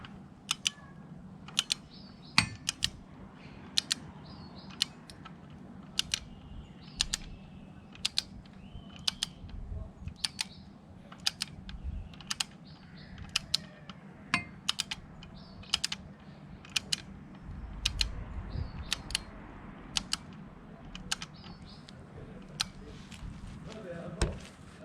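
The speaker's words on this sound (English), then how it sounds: "And now I'm gonna give it with my torque wrench." A torque wrench tightening the cleaned oil drain bolt on a Z900RS motorcycle to 29, making a run of sharp, evenly spaced ratchet clicks close to the microphone, with a little low background noise.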